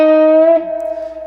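An electric guitar sustains a single bright, clean note from a jump blues lick, ringing loud and close before fading into a quieter held tail.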